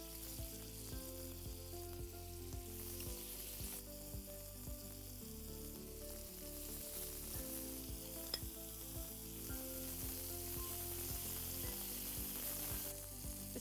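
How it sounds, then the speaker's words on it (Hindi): Chicken pieces sizzle and fry steadily on a hot skillet, a continuous close crackling hiss that stays loud throughout with occasional stirring clinks, no voices present. "इस चिकन को ग्रिल करते समय we have to be careful ये ओवर कुक ना हो जाए"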